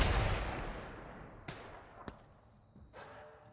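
Sniper rifle fire in The Outer Worlds video game: two or three sharp, loud gunshots spaced about a second apart, each cracking out of a fading rumble, with no talk.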